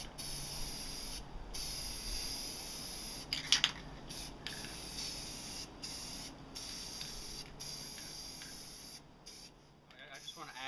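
Spray paint cans hissing while painting an A-TACS FG camo pattern, a long steady spray broken by several short pauses and a brief rattle, close, with talking in between.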